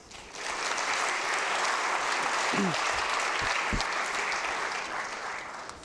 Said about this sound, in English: Please give a round of applause for Peter and Adam.